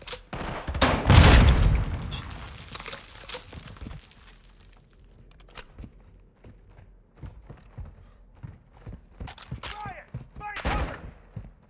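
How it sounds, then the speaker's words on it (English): Grenades thrown and exploding in a Call of Duty MW2 firefight, one loud booming blast early on, then scattered thuds, gunfire and footsteps, with a second burst near the end under faint voices. "These guys just chucking grenades. So I'm chucking them back."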